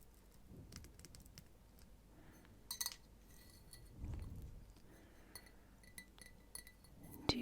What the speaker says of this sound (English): make sounds on the teacup. I like the glass sounds, especially the soft ones.